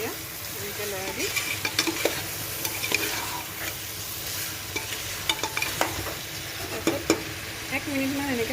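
Tomatoes and potatoes are stirred into mutton gravy frying in a pressure cooker, a continuous sizzle broken by frequent clinks and scrapes of the spoon, with occasional speech in the background.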